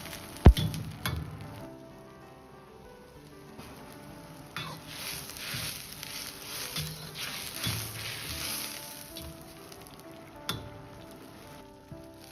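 Julienned celtuce strips going into a simmering sour-and-spicy pork soup, with steady bubbling, a sharp utensil clink near the start, and soft stirring and pot clatter that swell midway, all close and fairly quiet.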